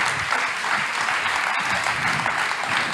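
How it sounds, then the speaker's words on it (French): Loud, steady audience applause for two guests at a French talk event on wellbeing after fifty, continuous clapping filling the room with a faint murmur of voices beneath. "On peut les applaudir."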